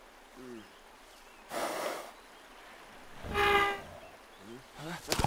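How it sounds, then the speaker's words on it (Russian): A strange creature sniffs at the player in the video game Pine. Two loud, breathy snorting bursts stand out against a quiet background, with faint short calls at the start and end. "Хватит меня нюхать!"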